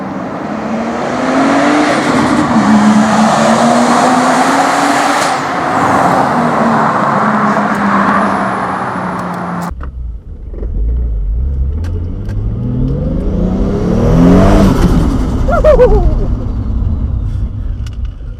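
Single-turbo Toyota Supra engine revving hard and rising in pitch, loud and close, then a second pass with a sharp climb and drop as it accelerates.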